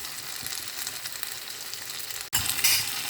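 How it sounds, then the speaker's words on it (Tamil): Green beans sautéing in a pan, with cooked potato and carrot then added: a steady close sizzle with light stirring, briefly cut by a sharp clatter before the frying resumes louder. "பீன்ஸ் கொஞ்சம் வதங்கிட்டோன்னா அப்புறம் வேக வச்சுருந்த உருளைக்கிழங்கும் கேரட்டையும் சேர்த்துக்கலாம்"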